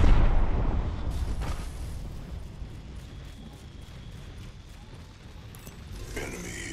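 Frag grenade exploding in the shooter game Apex Legends: a loud, booming blast at the start that decays into a long rumbling tail and low background noise.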